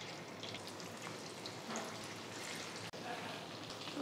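Chicken deep frying in oil, a steady soft sizzle and bubbling hiss, faint and continuous, with a brief clunk near the end.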